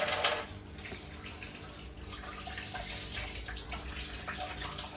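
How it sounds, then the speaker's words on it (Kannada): Tap water runs steadily into a container, filling it with fresh water for a money plant at home, a continuous splashing wash without speech. "ನಾನು ಮನಿ ಪ್ಲ್ಯಾಂಟಿಗೆ ನೀರು ತುಂಬ್ತಾ ಇದ್ದೀನಿ, ನೀರು ಚೇಂಜ್ ಮಾಡಿ."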